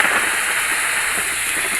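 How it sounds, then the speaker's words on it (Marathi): Rain falls in the Bus Simulator India game at night, a steady, dense hiss that holds evenly throughout with no voices. "तिथं बघू शकता पाऊस चालू आहे."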